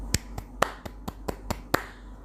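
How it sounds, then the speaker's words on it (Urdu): Clapping sound effect in a children's vegetable story, eight sharp, evenly spaced claps or snaps, close and dry, with no voices. "سب سبزیاں ان کی دوستی پر تالیاں بجانے لگیں"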